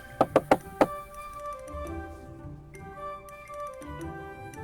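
Four sharp knocks on a door in quick succession, loud and close, followed by quiet room tone with faint background music.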